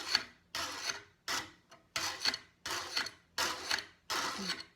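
A file is drawn across a pruning tool blade to remove burrs, giving seven close, evenly spaced rasping strokes, each a short gritty scrape separated by brief pauses.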